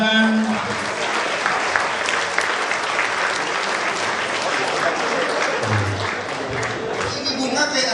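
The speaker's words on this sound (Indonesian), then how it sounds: "Tepuk tangan." Sustained audience applause fills a public lecture hall with a deputy governor as guest speaker, steady dense clapping throughout at a constant level, with faint voices underneath.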